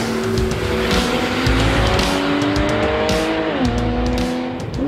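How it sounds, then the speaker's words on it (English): A Porsche 911 of the 991 generation with sports exhaust drives hard, its engine note rising and falling through the gears with a loud, continuous sound and sharp crackles on the overrun, heard from inside the car without talking. "The first thing I notice instantly driving the car with sports exhaust on is the noise, especially on the overrun."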